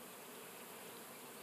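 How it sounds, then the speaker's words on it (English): A large mass of honeybees buzzing around a hive, a dense continuous drone, faint and unbroken. "They have the huge mass of bees."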